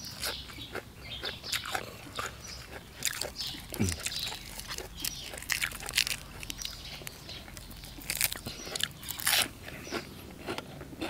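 Crunchy fresh vegetables being bitten and chewed up close, served alongside freshly steamed rice and raw beef. Sharp crisp crunches repeat irregularly throughout, with faint low background noise.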